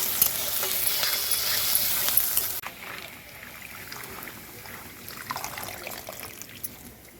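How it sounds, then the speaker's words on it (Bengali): Chopped garlic, onion and green chilli sizzle loudly in hot oil, a bright crackling hiss that drops abruptly partway through to a softer, steady frying with occasional stirring scrapes. "আর দেব রসুন কুচি, পেঁয়াজ কুচি, আর কাঁচা লঙ্কা দিয়ে দিয়েছি"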